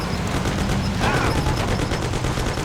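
Rapid gunfire from shooting at a car in the 1930s-era game Mafia: The City of Lost Heaven, loud, dense bursts of shots filling the whole stretch with no speech.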